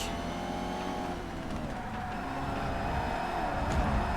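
A race car engine drones and revs in TOCA Race Driver 3, a steady harmonic engine whine that shifts pitch as the car accelerates off the start, heard alone with no talk.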